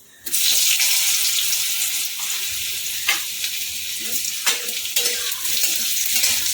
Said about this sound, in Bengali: আলুটা একটু লাল লাল করে ভাজবো